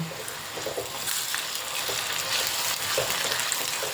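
Ginger garlic paste sizzles and fries with onions in a pan for masala mandakki, a steady crackling hiss with scraping stir strokes throughout, close and moderately loud.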